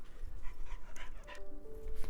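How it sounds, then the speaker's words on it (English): A pet dog pants in quick, rhythmic huffs close by, steady and fairly loud throughout with a faint whine near the end. "That's my dog Penny there."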